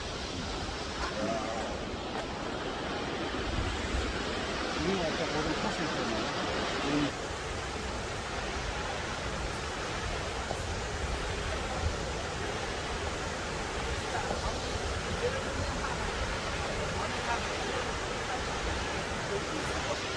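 A constant roaring rush of falling water, broad and steady throughout, from a large waterfall close by at Tiantai Mountain, China, with no break in the noise.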